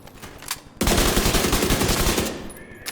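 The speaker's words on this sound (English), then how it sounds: "Police UMP 45, first round headshot." A police UMP 45 submachine gun in The Division 2 opens up in a loud, rapid sustained burst lasting about two seconds, following a brief quieter shot, with dense rattling fire dominating.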